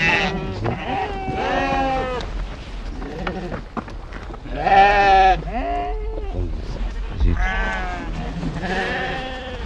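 A flock of Timhadit ewes in a mountain grazing area bleats over and over, the loud, wavering calls overlapping and close by, with short gaps between bursts.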